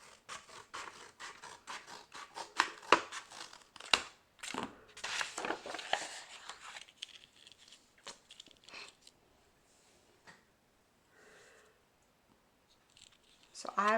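Scissors cutting, heard as a dense run of crisp snips and crunching clicks close up over the first several seconds, then thinning to sparse faint clicks, with a voice talking over it.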